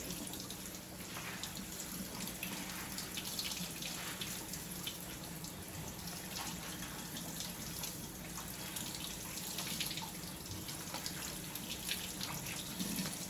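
Steady running water pours from a kitchen sink tap as broccoli florets are rinsed under it, a continuous close splashing wash with faint drips and no talk.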